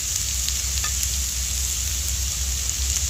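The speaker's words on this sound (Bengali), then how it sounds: "অল্প লঙ্কা গুঁড়ো আর অল্প লবণ এবার একটু ভালো করে মশলাটা কষিয়ে নেব" Eggplant frying with turmeric and other spices in a pan, giving a loud, steady, close sizzle that holds constant throughout, with an occasional faint tap of a utensil.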